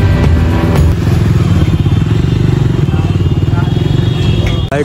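A Bajaj Dominar 250 motorcycle engine idles close by with a loud, steady, pulsing throb, while a person talks over it.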